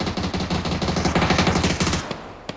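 Rapid bursts of submachine gun fire in PUBG crackle continuously, automatic weapon fire dense and loud, ending with a couple of isolated shots.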